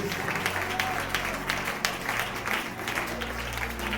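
Congregation clapping during a Sunday church sermon, a steady wash of applause over low background music and crowd murmur, moderately loud and continuous throughout.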